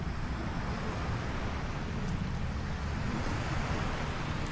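Ocean surf around Dubai's Palm Jumeirah, a reclaimed sand island, gives a steady, dense roar of breaking waves that holds an even level throughout, with some wind rumble and no voices.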